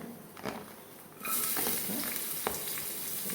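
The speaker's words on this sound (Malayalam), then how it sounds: "വെളുത്തുള്ളി വെച്ച് ഇത് നമുക്ക് അങ്ങ് ഫ്രൈ ആവും ഇപ്പോൾ ഫുൾ ഫ്ലെയിമിലാണ് ഇത് ചെയ്യുന്നത്" Crushed garlic and shallots fry over full flame in a soup pot, a close crackling sizzle that jumps louder after a soft start, with occasional stirring clinks and no voices.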